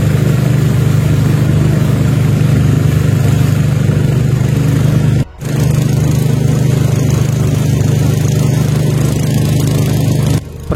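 A motorboat engine drones loud and steady on the Kluet river in South Aceh, a constant close mechanical hum with two brief dropouts, and no voices.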